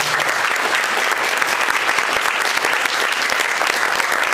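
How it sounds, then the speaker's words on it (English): An audience gives a panel on 2015 healthcare options a sustained round of applause, dense steady clapping from a sizeable crowd throughout, with no talk. "I'd like to have you give everybody a wonderful round of applause"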